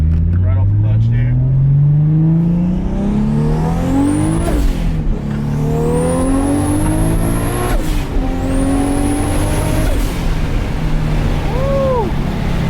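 An 800 hp Toyota Supra pulls hard off the clutch, its engine note climbing through several gears with brief drops at each shift, loud and close from inside the car, with wind rushing past and voices talking over it.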